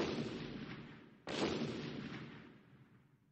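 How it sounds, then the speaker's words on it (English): Explosions from excavation work near a river, two heavy, broad blasts in succession, the second booming sharply and then rolling away into a long fading rumble, with no voices. "Then I heard an explosion. The company was excavating near the river. Every few minutes there was another explosion."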